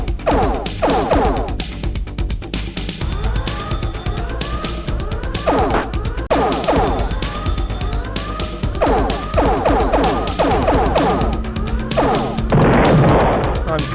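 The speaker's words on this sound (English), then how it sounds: "I'm crashing into the Earth." A spaceship crashes into Earth in the video game Star Control 2, with loud repeated smashing impacts and sweeping electronic tones over a constant rumble, ending in a harsh burst of noise.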